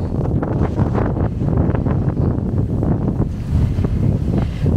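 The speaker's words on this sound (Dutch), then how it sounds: "Oh mijn god. Wind, hou op." Strong wind buffets the microphone outdoors on a walk, a loud, continuous low rumble and roar that never lets up for the whole stretch, with no talking.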